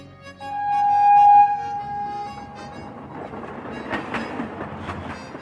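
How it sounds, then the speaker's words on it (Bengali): A train departing for Darjeeling via New Jalpaiguri: a sustained horn tone rings out first, then settles into rolling wheel clatter with rhythmic clicks, fairly faint and steady. "দার্জিলিংয়ের উদ্দেশ্যে ছাড়লো আমাদের ট্রেন।"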